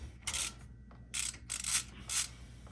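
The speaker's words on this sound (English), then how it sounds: "It's an Allen key, like this, to remove this ugly rotor." Allen key working on a BMW E36 M3 brake rotor, giving four short bursts of metallic ratcheting and scraping with brief gaps between them, close and moderately quiet, with no talking.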